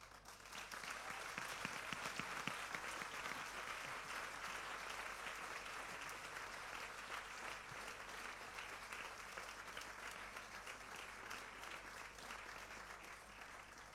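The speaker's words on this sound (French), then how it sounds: "Fort de ces applaudissements" Sustained audience applause at a debate event, a dense, steady wash of many hands clapping that holds evenly throughout without letting up.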